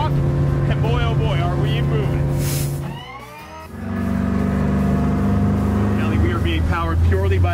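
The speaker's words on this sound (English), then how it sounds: "the only thing pulling this boat is the E-Tech" An Evinrude E-Tec outboard motor drones steadily as a boat moves through water, with people talking over the engine noise.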